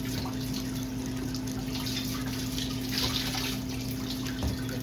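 Tap water runs steadily into a container being filled to about 900 milliliters for sterilizing phytoplankton cultures, with a constant splashing rush over a low hum.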